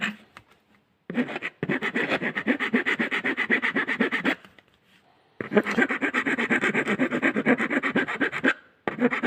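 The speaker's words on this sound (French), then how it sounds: "Un petit coup de lime." A hand file rasps across a metal collar on a Peugeot 205, in two long bursts of rapid back-and-forth strokes, close and loud, separated by a short pause.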